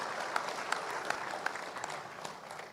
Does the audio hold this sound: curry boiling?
no